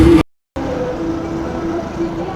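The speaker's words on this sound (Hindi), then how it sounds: "ये गाड़ी जा रहा है" A vehicle passes on a road near a railway line in the Jharkhand countryside, a steady broadband rumble with a tonal hum, sustained after a brief cutout, with no talk over it.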